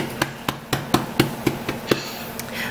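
Hands patting homemade biscuit dough flat on a counter, about nine soft dull slaps in a fairly even rhythm, close and alone.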